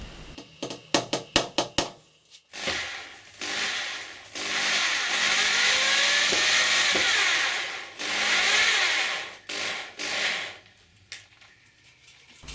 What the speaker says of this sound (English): screw a couple of screws in from behind here into the plywood